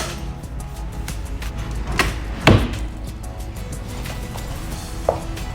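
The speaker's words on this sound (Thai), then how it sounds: "แล้วเราก็ดันลิ้นชักกลับเข้าไป" A drawer slides along its rails and bumps shut with a solid thud, followed later by a faint light click.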